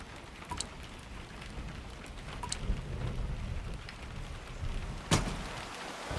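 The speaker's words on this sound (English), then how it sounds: "It's not a storm. That's just a little rain." Light rain falls steadily on a surface in a simulated storm, a continuous soft wash with a few brief sharp cracks, the loudest near the end.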